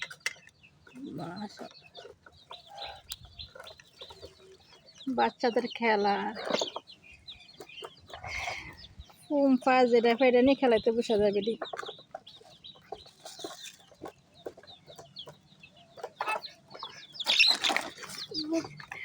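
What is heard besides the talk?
chicken clucking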